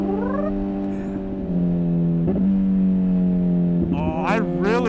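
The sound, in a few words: Honda Hornet motorcycle with Yoshimura exhaust, quick-shifter downshift pops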